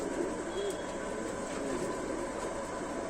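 Rampuri pigeons cooing softly in a loft, a low continuous burble of coos at fairly quiet level.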